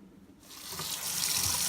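Tap water gushing steadily over a freshly heat-formed Boltaron holster sheet to cool it, starting after a brief quiet moment and running loud and constant close by.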